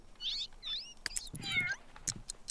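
A kitten in The Sims 3 meows several times, a short series of high, clear mews close up, with faint game clicks and soft background noise between them.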